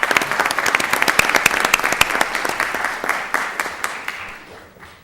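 A school board meeting audience gives teachers a round of applause, a dense burst of clapping with crisp individual claps that fades out over about five seconds.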